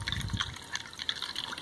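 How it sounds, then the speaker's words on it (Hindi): Water is poured into a glass for nimbu pani, a lemon drink with black salt, making a steady splashing trickle that sounds close and fairly quiet, with no speech over it. "यहाँ पे हम पानी डाल देंगे"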